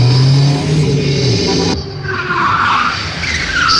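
A stock car spins donuts (cavalo de pau) at a Mega Space maneuver event, its tires screeching in a long, loud continuous skid under engine roar, the squeal shifting in pitch as the car rotates.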